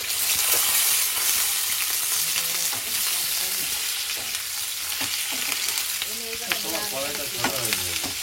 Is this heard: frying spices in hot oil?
yes